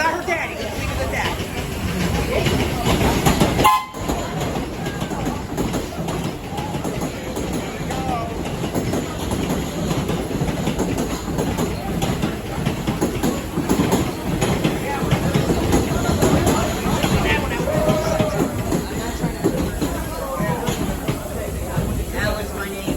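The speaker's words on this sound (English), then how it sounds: "Waiting for the trains to come." Trains rumble and clatter past at a New York City parade of trains, a steady rolling rail noise lasting throughout with a crowd chattering in the background.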